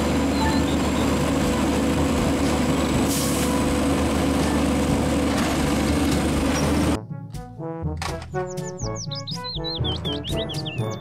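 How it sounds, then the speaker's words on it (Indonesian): A garbage truck engine rumbles loud and continuous for about seven seconds, then stops suddenly, followed by chirpy, bird-like tonal sounds. "mobil truk sampah."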